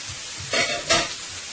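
Jumbo shrimp and two steaks sizzle together in a hot pan, with two brief louder bursts of frying hiss over a steady, quieter crackle.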